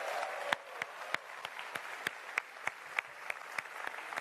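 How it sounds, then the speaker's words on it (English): A crowd applauds steadily, a broad wash of clapping with sharp individual claps standing out at a regular beat, like rhythmic clapping along. "a huge round of applause for the Jurassic World Evolution developers"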